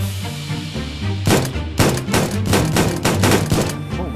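Gunfire in a VR shooting gallery video game: a run of punchy shots in an irregular rhythm, layered over bright repeating game music, with no voices.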